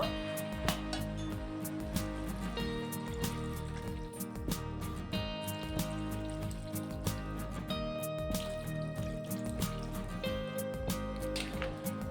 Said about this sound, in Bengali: পরিমাণ মতো জলটা দিয়ে দিলাম